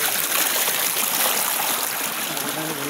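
Water rushes over rocks in the Laya River in Talisay City, Cebu, a steady close broadband babble and splash filling the short stretch without pause or voices.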